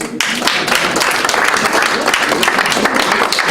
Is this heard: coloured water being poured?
no